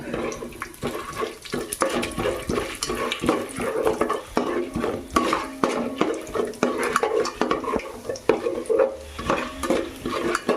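Chana dal and mustard seeds fry in hot ghee for a gongura pachadi tempering, with a crackling sizzle and rhythmic scraping of a stirring spoon against the pan, close and fairly loud.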